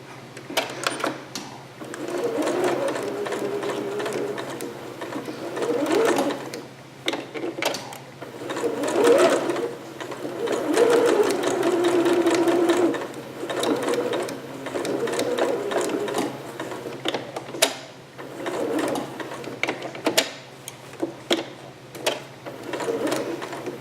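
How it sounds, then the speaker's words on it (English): A sewing machine set to its longest stitch bastes fabric along a pinned seam, its motor whirring in long runs with brief pauses and clicks between them, close and steady. "So now I'm going to baste this at my machine, and I'll let you watch me do that."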